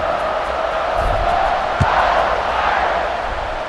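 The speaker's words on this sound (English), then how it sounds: "this crowd is buzzing after that last score" Stadium crowd at a football game buzzing with a steady, dense roar of cheering and chatter, broad and continuous throughout, with a brief low thump near the middle.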